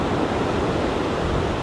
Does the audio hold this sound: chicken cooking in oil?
no